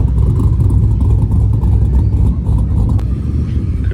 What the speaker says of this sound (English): Could listen to a V8 all day, every day.